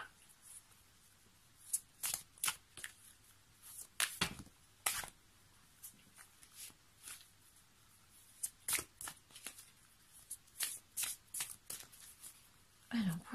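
Tarot cards shuffled by hand in a series of quick riffling bursts with short pauses between, close and crisp, and a voice speaking faintly in the background.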